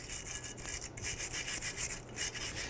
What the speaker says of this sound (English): We're just going to use a bristle brush.